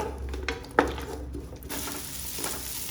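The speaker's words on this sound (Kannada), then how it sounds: "ಈರುಳ್ಳಿ ಸ್ವಲ್ಪ ಫ್ರೈ ಆಗಲಿ" Onion frying in oil in a pot for a kalale gojju curry, a steady soft sizzle with metal utensil scrapes and stirring clinks, one sharp knock near the start.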